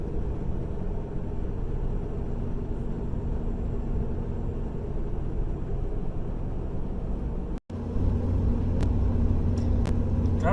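A steady, loud engine and road rumble from inside an RV driving on a mountain road, with a brief cut partway through and then the same continuous drone.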